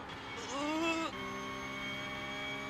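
A Porsche Cup race car in iRacing holds a steady engine drone, rising briefly in pitch before settling into a sustained hum with a faint voice underneath.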